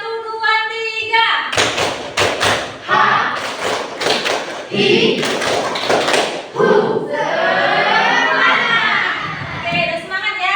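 Children in a classroom clap a counted pattern in loud rhythmic bursts of claps and thumps. A teacher's voice and children's shouting mix in and out between the bursts.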